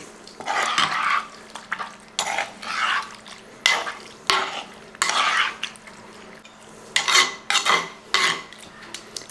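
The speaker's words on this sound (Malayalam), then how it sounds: "ഇനി ഇത് നന്നായിട്ട് ഇളക്കി കൊടുക്കുക." A spoon stirs a pan of sardine curry with tamarind and grated coconut in a Kerala kitchen, giving repeated scraping, clinking strokes in bursts about every second, close and fairly loud with no talk.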